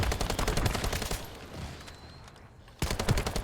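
Rapid gunfire from The First Descendant, with dense, loud repeated shots that pause briefly and then resume in a sharp burst, with no talk.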